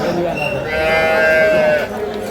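A dairy cow lets out a long, loud moo close by at a livestock market in Kaharol, rising and holding before trailing off, with background noise around it.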